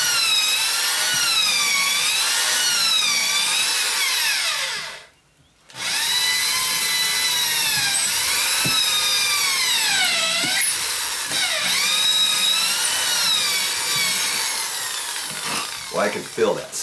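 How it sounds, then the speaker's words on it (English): Loud, close power drill driving screws into a wooden door stud, the motor whining and shifting pitch under load, with a brief stop midway before it resumes. "let's see if I can drive these all the way in with this drill"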